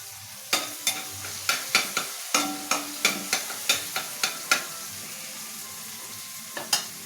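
Egg frying in a pan with tomato and onion, a soft sizzle under a steady run of sharp utensil taps against the pan, pausing briefly near the end before a few final knocks.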